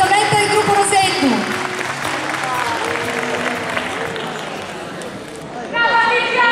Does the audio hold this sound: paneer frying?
no